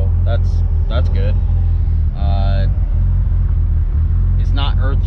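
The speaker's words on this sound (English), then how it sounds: "the car is running good" A turbocharged Mitsubishi Evo 8 with Fueltech engine management drives with a loud, steady low engine rumble running throughout, while a voice talks over it in short bursts.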